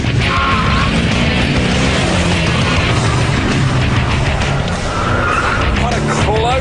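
A Gumpert Apollo sports car accelerating under turbo boost, a loud, continuous engine roar with rising pitch that fills the whole stretch, with tire and road noise mixed in.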